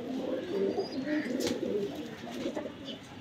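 A pigeon coos softly and nearby in a few low, rolling calls, with faint background noise and no talking.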